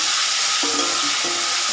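Potatoes frying in oil previously used for prawns and tempered with cumin, dried chili and bay leaf, a steady close sizzle with a couple of soft scraping stirs.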